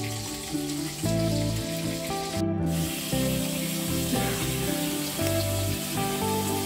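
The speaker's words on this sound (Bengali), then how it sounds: "একবার মাছ ভাজা হয়ে গেল, আবার দেওয়া হচ্ছে মাছ ভাজা।" Fish fries in a pan at home, a continuous hiss of sizzling oil running beneath steady background music.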